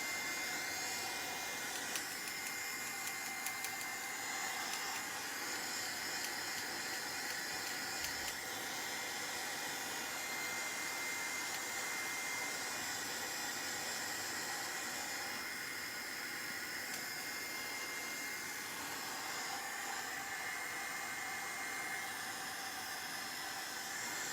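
A heat tool blows steadily as it dries paint layers on a mixed-media canvas, giving a continuous airy hiss and whir at moderate level with no talk.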